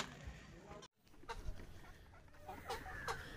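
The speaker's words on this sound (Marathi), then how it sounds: "ही छोटी कोंबडी, ही मोठी कोंबडी." Hens cluck in a series of short, close calls, one small and one large bird, with a brief drop to silence near the start and outdoor background noise throughout.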